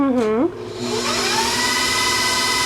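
An electric KitchenAid stand mixer motor whirs up to speed and then runs with a steady, close whine, after a brief voice at the start.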